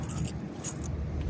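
A ring of keys for a 1962 Chevrolet Biscayne jangles close by in two short bursts of bright metallic clinking, quiet and brief, with no talking.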